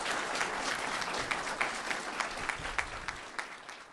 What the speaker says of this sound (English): Give one last round of applause to both Rachel and Craig.